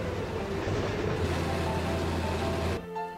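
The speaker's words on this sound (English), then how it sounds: "As that train pulls its load of autos out of the area." Train hauling a load of automobiles in the simulation game Chris Sawyer's Locomotion, a steady rumbling roll with rail clatter that runs loud and continuous before cutting off sharply near the end.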